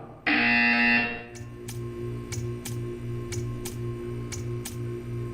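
A loud, harsh buzzer in the video game Portal 2 blares for about a second, then gives way to a steady, regular ticking.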